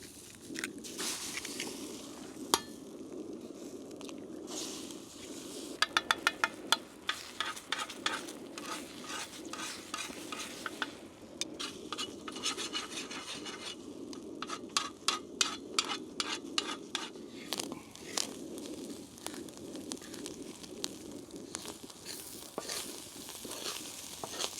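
Eggs and sausage fry in a pan while being stirred, with a quiet ongoing sizzle, repeated scraping and clicking strokes of a utensil, and occasional sharper taps, up close with no talking.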